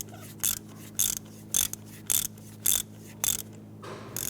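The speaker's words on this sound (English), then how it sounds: "you can go ahead and run it down the rest of the way with your ratchet" A hand ratchet runs a spark plug down into the 2.2L four-cylinder engine of a 1992-1996 Toyota Camry, giving short bursts of rapid metallic clicking in a steady rhythm, about seven strokes, close and clear with no talk.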